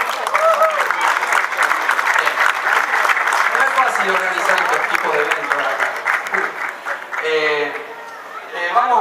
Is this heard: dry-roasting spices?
no